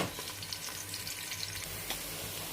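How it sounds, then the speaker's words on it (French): Onions cook in olive oil with a soft, even hiss of frying that carries on without a break, quiet and close, with no voices. "Nous allons passer à la cuisson des oignons."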